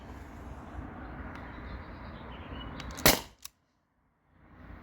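A single sharp crack from a modified T4E HDP50 pistol running on HPA from a 900 PSI tank, firing a 2.7-gram round, loud and close, followed by a short echo and then silence.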